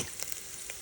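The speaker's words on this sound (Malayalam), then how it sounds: "തേങ്ങ നല്ല ബ്രൗൺ കളറാവുന്നത് വരെ വറുക്കണം കേട്ടോ" Grated coconut frying in coconut oil until brown, a soft steady sizzle with a few faint crackles, close and quiet, no voices.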